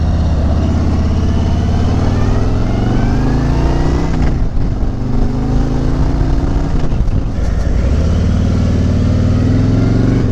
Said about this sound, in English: Alright, so on with the Street Glide test ride.